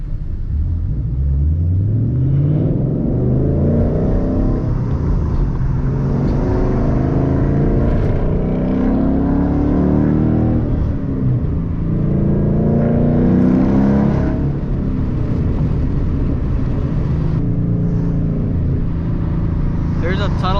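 A manual Ford Mustang GT pulls away in first gear, its engine rumbling and revving loudly up through the gear with a deep, throaty tone, close inside the cabin, with a voice speaking over it.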